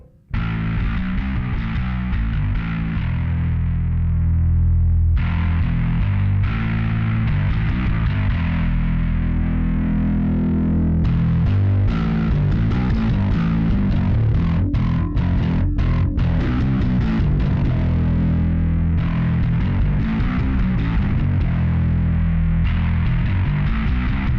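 Gritty, overdriven bass guitar through overdrive pedals and a Joyo Monomyth bass preamp, playing a continuous low riff, thick and distorted, with a few brief pauses and muted string chops.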